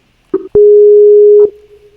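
A short blip, then a single long Skype ringing tone held for about a second, loud and clean against near silence, fading to a faint trailing tone.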